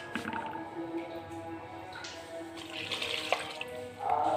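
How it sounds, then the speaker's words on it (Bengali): Water poured from a tap or vessel into a cooking pot of cabbage with salt and turmeric, a soft uneven splashing and trickling at close range, no talk. "এবার একটু জল দেবো।"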